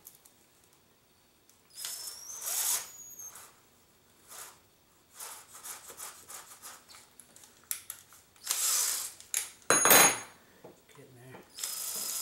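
A battery-powered power tool works through thick PVC in short, uneven bursts amid handling clatter, with a louder sustained run near the end.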